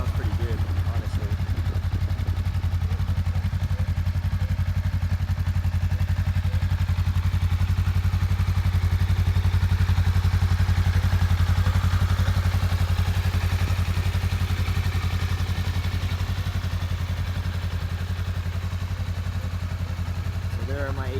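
A Honda Rebel 500 with stock exhaust idles steadily and close by, its low, even engine throb continuing unchanged, with a voice talking faintly over it.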